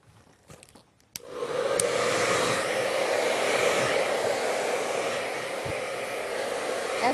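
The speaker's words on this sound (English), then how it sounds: "As I'm blow drying, you're not seeing a lot of hair particles flying all over the place" A hair dryer blows steadily and loudly on hair after a brief quiet start, a continuous broadband whoosh that holds for several seconds with no voices.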